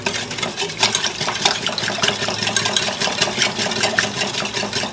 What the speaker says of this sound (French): du sucre, je mets dedans, et alors je mélange un peu